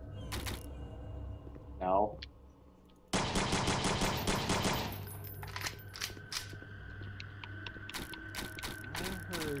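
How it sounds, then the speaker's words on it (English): A shotgun is racked in a video game, giving a loud burst of mechanical clacking and sharp gun-like bangs, with fainter clicks afterward and someone speaking nearby. "I hear that as you cock a shotgun"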